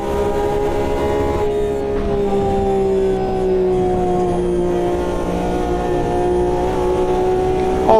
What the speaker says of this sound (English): That's a nice sounding car.